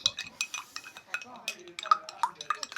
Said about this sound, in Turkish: böyle karıştırıyoruz